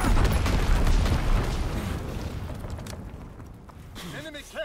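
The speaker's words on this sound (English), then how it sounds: "Incendiary bombs incoming." Incendiary bombs dropped by an enemy bomber burst in a deep, rumbling blast that slowly decays in a war video game, with a voice briefly heard near the end.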